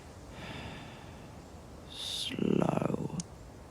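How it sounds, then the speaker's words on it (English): Slow, wet breathing from just behind a tent's fabric swells up close after a quiet, hissing start, with a heavy, ragged rasp before it cuts off. "came the sound of breathing"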